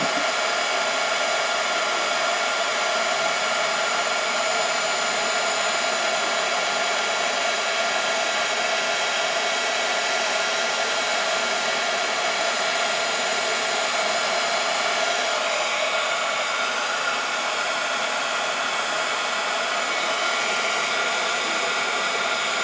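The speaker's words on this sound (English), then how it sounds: "I'm gonna grab my heat gun and quick set this too." A heat gun blows steadily and loudly near the microphone for the whole stretch, drying the embossing on a handmade Christmas card, a constant airy whir with no pauses.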